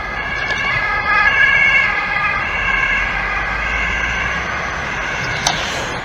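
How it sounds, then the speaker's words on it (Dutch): An ambulance siren sounds steadily throughout, fairly loud over constant road and traffic rumble, with its wailing tones holding across the whole stretch. "And now there's a ambulance coming."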